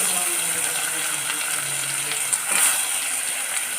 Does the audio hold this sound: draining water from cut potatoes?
yes